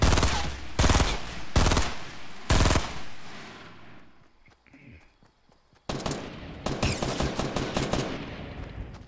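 Bursts of rapid automatic gunfire in a video game firefight, several loud broadband volleys early on, a quieter lull, then a sustained crackling barrage of shots near the end.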